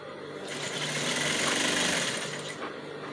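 A sewing machine stitches the facing of a no-dart blouse with a drawstring gathered bust, running steadily for about two seconds with a dense mechanical whir that swells and fades, close up and alone.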